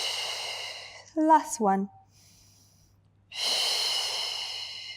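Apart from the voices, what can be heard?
exhaling breaths during a Pilates stretch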